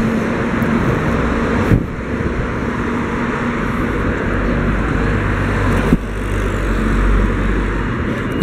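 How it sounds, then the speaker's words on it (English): An old Honda Accord drives past on a road with a low, rumbling engine and tyre noise. The sound stays fairly steady, with some faint background traffic around it. "Look at that old Accord chugging along"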